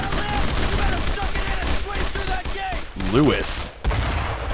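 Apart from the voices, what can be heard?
machine gun fire from the flank in the Brothers in Arms video game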